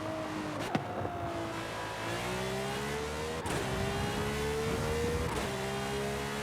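A car in a Forza Horizon 5 track-day race accelerates through repeated gear shifts, the engine note climbing steadily then dropping sharply at each upshift, loud and continuous over game ambience, with no talk.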